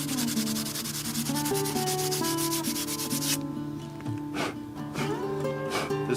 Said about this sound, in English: I'm just taking sandpaper and a knife.